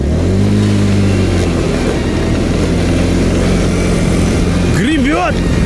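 Homemade snowmobile engine on its first test ride, running loud and close with a rough continuous drone and a brief revving surge near the end, while people talk over it.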